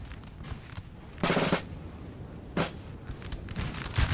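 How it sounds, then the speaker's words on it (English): Grenadiers fire musket volleys in a Napoleon: Total War multiplayer battle. Loud crackling bursts come in three waves over a low battlefield rumble, with the first burst the longest. "these guys getting gunned down"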